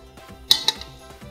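A plate clinks against a metal pot as pan-fried pork meatballs are slid into a misua and patola soup, with two sharp clinks close by and softer scraping around them.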